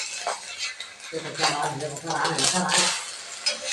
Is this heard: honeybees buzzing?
no